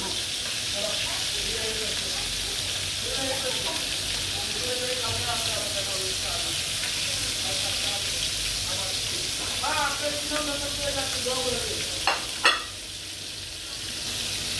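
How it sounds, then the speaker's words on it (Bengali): Chicken pieces fry in hot oil in a pan for a masala chicken curry, giving a steady, close sizzle that runs the whole time, with a couple of sharp clatters near the end. "আমার মাংসটি ভাজা হয়ে গেছে"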